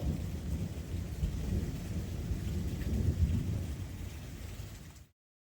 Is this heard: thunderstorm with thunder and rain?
yes